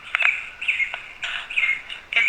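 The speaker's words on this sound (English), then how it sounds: "Those are birds." Birds chirp outdoors at Poor House Farm Park in Martinsburg, West Virginia, with bright, fairly close tweets arriving in short repeated bursts separated by brief gaps.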